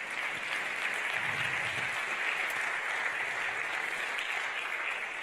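Audience applause at the Patriot Awards 2023 ceremony: a steady, dense wash of clapping from a crowd, sustained throughout without pause.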